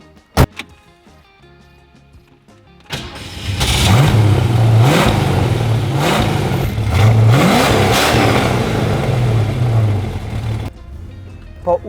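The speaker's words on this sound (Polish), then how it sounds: "wzbudzamy 5-litrowy silnik, który nie wiem ile ma mocy" A 1966 Ford Mustang with a 5-litre engine and lazy automatic gearbox revs loudly while driving, the engine note climbing in several rising pulls through the gears before cutting off, preceded by a quiet interior and a sharp click.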